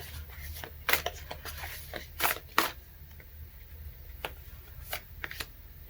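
Tarot cards shuffled by hand, a close series of crisp riffles and slaps in irregular bursts, with quieter rustling between, and no talking.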